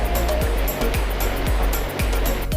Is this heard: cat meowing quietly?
no